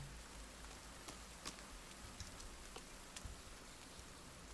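Light rain falls in The Forest, an even quiet wash of noise dotted with small irregular drips, heard alone without speech.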